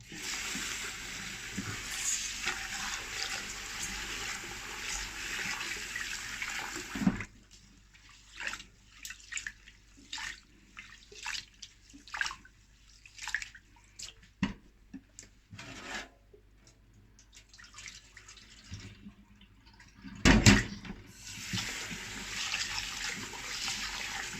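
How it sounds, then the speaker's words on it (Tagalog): Glutinous black rice being washed by hand in water for biko: wet rubbing and swishing grains, sloshing and drips, fairly close and intermittent, with a louder splash near the end. "yan hugasan muna natin ang malagkit"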